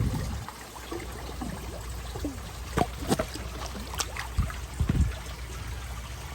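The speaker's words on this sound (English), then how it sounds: "I'll just wait until the water will go above the bell siphon." Water trickles and splashes into a crayfish pond's bell siphon, an irregular series of soft drips and gurgles close by over a low steady background, with no talking.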